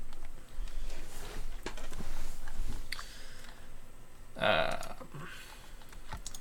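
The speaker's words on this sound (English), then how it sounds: "That sound specifically translates into I'm taking a shower and somebody's running the water" A brief, groaning shudder from water pipes rises over the steady background rush of a running shower, then fades away.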